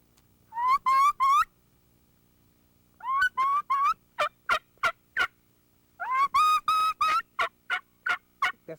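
A person on a mouth call imitates a jenny turkey, making three bursts of sharp, clear yelps, each a quick run of raspy notes and then a string of separate clucks, with silence between bursts.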